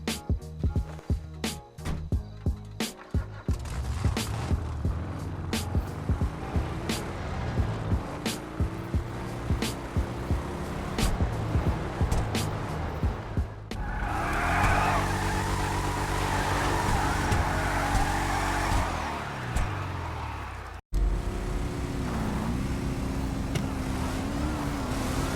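Cars with supercharger blowers, including a Hellfire, roar through a drag race in the video game GTA 5, engines revving and shifting with rising and falling pitch, loud and continuous with a brief cut near the end.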